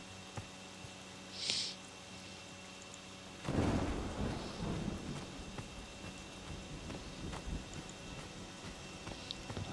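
Rain and a thunder rumble from a rainy-day match in the video game Friday the 13th: a steady hiss of rain throughout, with a sudden broad rolling boom about a third of the way in that fades slowly.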